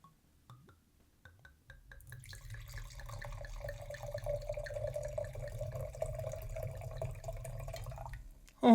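Wine is poured from a freshly uncorked bottle: a few soft drips first, then a steady close liquid stream for several seconds, ending with a sudden louder knock.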